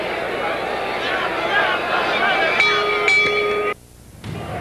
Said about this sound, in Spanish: está a punto de sonar la campana terminando el round 3